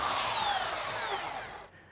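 A power sander works over a wooden guitar body, a loud close whirring rush that holds steady, then fades and cuts off within about two seconds.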